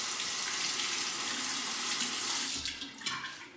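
Tap water runs steadily as a Parker 60R razor is rinsed beneath it, a close, continuous splashing gush that briefly breaks up near the end.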